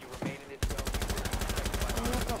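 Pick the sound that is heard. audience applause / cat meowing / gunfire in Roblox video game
gunfire in Roblox video game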